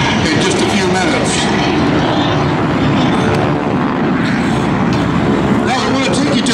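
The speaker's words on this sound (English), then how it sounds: "Part of our Vietnam history, the Douglas A-4 Skyhawk." A Douglas A-4 Skyhawk jet on its takeoff roll at the Sun 'n Fun warbirds event, a loud, continuous roar that stays steady with a public-address voice talking over it.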